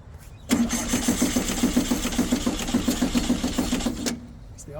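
An old Baja off-road race car engine cranks over on the starter in a steady, rapid rhythmic churn for about three and a half seconds, loud and close, without catching.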